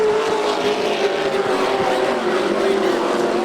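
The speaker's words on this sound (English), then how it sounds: "It's 6 trucks now, pretty much nose to tail at this point, as they go down the back straightaway." Pickup race trucks roar around a dirt oval at Volusia Speedway, six running nose to tail down the back straight in a steady, loud engine drone with a sustained pitch, while an announcer's voice carries over the top.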